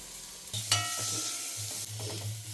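Onions sautéing in a pan while being stirred, a steady sizzle broken by a sharp clang and repeated spatula scrapes against the metal, with a low hum underneath and no talking.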